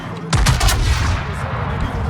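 Heavy ship guns firing in a naval combat video game, a single loud booming volley with a crackling rumble that rolls on and fades slowly.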